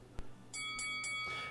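A bar bell rings behind the bar at a Portland taproom, one dull knock followed by three quick bright strikes that ring on in a sustained shimmer.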